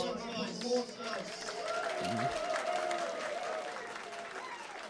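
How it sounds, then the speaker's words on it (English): Audience applause and cheering in the room at a TF2 6v6 tournament grand final, moderately loud and sustained, with voices talking over the clapping. "Round of applause for Horns, guys."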